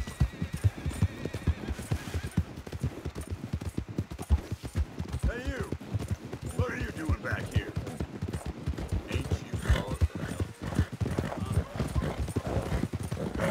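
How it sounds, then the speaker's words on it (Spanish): Horse hooves clip-clop steadily in Red Dead Redemption 2, a continuous rhythmic trot with occasional whinnies, while someone talks over the hoofbeats throughout. "Hola, caballito. Ese es mi caballito."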